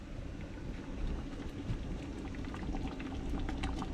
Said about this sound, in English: You see how I'm stirring these bubbles out of here?